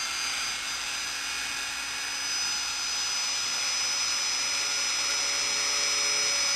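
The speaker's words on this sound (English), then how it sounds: "drill a hole through" A small drill whines steadily while boring a hole through a model part, a constant high-pitched hum close to the ear that keeps an even level throughout with no voices.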